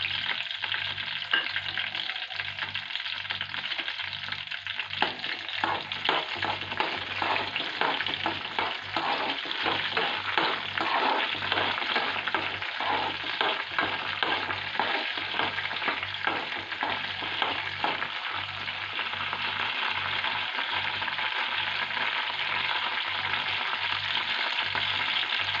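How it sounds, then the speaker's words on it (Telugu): Sliced green chillies fry in hot oil in a pan as a tomato and coriander chutney gets started, giving a steady, dense sizzle with frequent stirring scrapes, close and continuous throughout with no talking. "వేడైన తర్వాత నేను కట్ చేసి పెట్టుకున్న పచ్చిమిర్చి అయితే వేసేస్తున్నాను."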